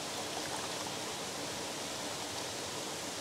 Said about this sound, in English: Some fresh river water.